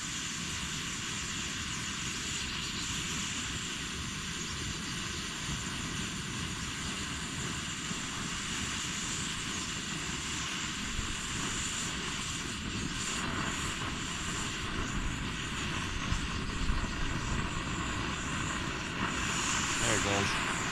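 An MSR XGK EX liquid-fuel camping stove roars steadily and loudly at full burn, a dense continuous rushing hiss that grows slightly stronger toward the end, with a voice talking over it.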